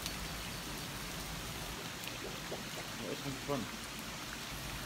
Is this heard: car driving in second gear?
no